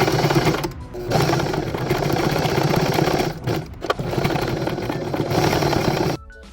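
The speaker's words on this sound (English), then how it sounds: "I'm gonna sew that in with my machine" A sewing machine stitches Velcro onto a small doll top, running in a loud, fast, steady mechanical buzz with a few brief pauses between bursts before it stops near the end.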